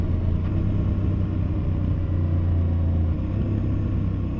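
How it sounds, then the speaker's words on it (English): A Husqvarna Norden 901 motorcycle downshifts with its quick shifter while riding into a turn, a steady mid-pitched engine drone under constant wind and road rumble. "Boy, this quick shifter downshifting is like butter."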